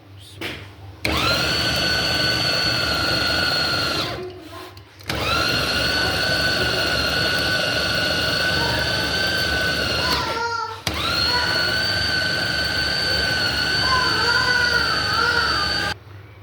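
Electric kibbeh grinder motor grinding meat and rice into a paste, a loud steady whining drone in three long runs separated by brief pauses.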